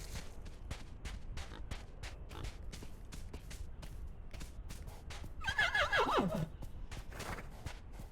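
A horse whinnies in a video game, a loud descending neigh near the middle over steady background game sound with repeated soft thumps.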